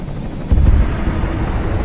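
A helicopter in the video game Arma 3 passes with a loud, steady rotor and engine roar, swelling suddenly partway through and then holding as a dense, rumbling drone, with no speech.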